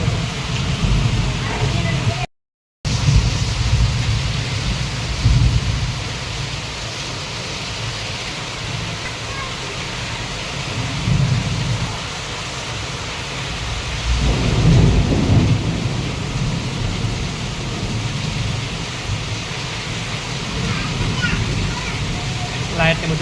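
Heavy monsoon downpour in Amreli with thunder, a dense continuous rain roar punctuated by low rolling thunder swells, especially around the middle; a person speaks at times over the storm.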